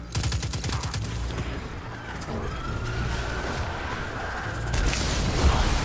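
Rapid bursts of gunfire and booming explosions from Destiny 2 game action, loud and chaotic, with a rising whine and more blasts near the end.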